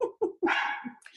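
A dog gives a few quick, close barks in succession, the last one drawn out, all within about a second.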